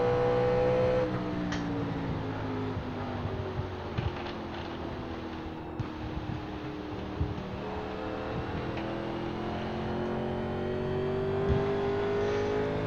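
A 1987 NASCAR stock car engine in the iRacing game at Phoenix drones steadily and climbs in pitch as it accelerates out of turns 3 and 4, with a continuous, fairly even engine tone throughout.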